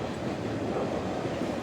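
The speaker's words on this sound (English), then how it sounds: "There goes the famous train." A train passes at a distance, a steady low rumble of rolling rail cars with a faint clatter, continuous and unbroken with no voices over it.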